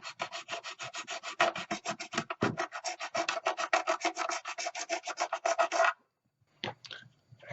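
A hand file is drawn over Bakelite to clear material from a crack, producing dozens of quick, regular rasping strokes up close, then a short pause and a few more scrapes.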